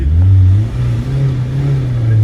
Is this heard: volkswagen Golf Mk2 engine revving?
yes